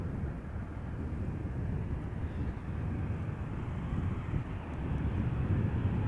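Jet engines of Boeing 747s taxiing at Amsterdam Schiphol Airport give a continuous low, heavy roar at a distance, steady and unbroken with a slight swell toward the end.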